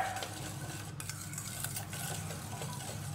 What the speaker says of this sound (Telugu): బాగా లంప్స్ లేకుండా, ఉండలు కట్టకుండా బాగా మిక్స్ చేసుకోవాలి